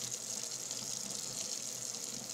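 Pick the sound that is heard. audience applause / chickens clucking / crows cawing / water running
water running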